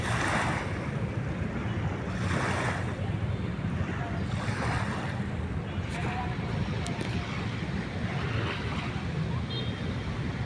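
A boat approaching across Manila Bay amid washing waves and gusty wind, a constant broadband rush of surf and motor noise with intermittent wind bursts, no clear voices.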